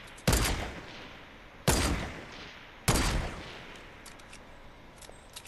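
Three loud, sharp gunshot bursts from a video game base raid, spaced about a second apart, each ringing out with a long decaying tail, and a faint background hum between them.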